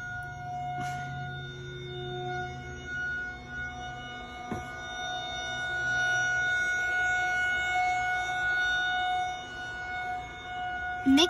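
A steady wailing tornado warning siren in Mustang holds a sustained tone across the whole stretch, loud and unbroken, with a faint background hum and a brief thump near the end.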